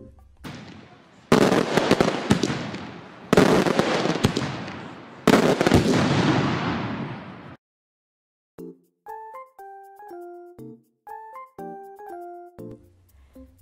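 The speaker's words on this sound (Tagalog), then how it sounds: "Isa pang halimbawa ay ang paputok." Three long bursts of firecrackers crackle loudly one after another, each dense string of pops dying away, followed by a simple tinkling melody of clear bell-like notes.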